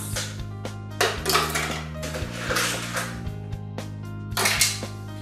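Ice cubes clatter and rattle as they are dropped into a plastic countertop ice maker with its lid open, bursts of hard clinking spread across the clip over a steady low electrical hum, no voices.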